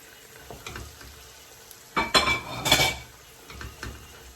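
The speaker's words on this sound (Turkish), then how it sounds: "Nohutlarımı ekliyorum." Chickpeas are tipped into a pot of Moroccan-style harira soup with beans, making a short burst of rattling and clattering against the pot over a low simmer, followed by quieter clinks.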